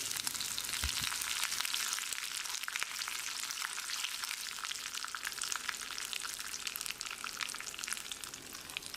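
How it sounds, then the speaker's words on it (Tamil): Mustard seeds, urad dal and curry leaves fry in hot oil as a tempering for coconut chutney. The steady, close sizzle is full of tiny crackles and pops, and no one speaks. "1 டீஸ்பூன் உளுந்து, கொஞ்சமாக கறிவேப்பிலையை சேர்த்து கலந்து விட்டு சட்னியில் ஊற்றிடலாம்."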